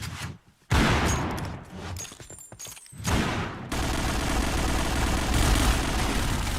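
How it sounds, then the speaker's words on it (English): Pistol gunfire in an esports battle royale match, with bursts of rapid shots cutting in and out before giving way to a loud continuous rumble of heavy game noise. "now it's pistol battles"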